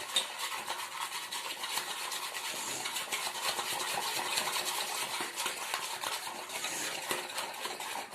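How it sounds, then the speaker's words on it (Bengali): A utensil stirs lemon into a wet batter for frying pabda fish, giving a continuous close scraping and light clicking against the bowl with a brisk even rhythm and no voices. "দেখুন এবার আমি ব্যাটারটার সাথে ভালো করে লেমনটাকে মিশিয়ে নিচ্ছি"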